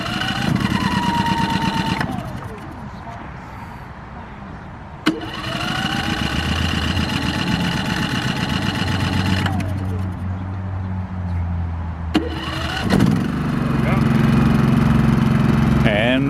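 A propane-fuelled engine is cranked repeatedly, with several separate bursts of starter grinding broken by pauses, before it catches and settles into a loud, steady running drone at a winter field day site.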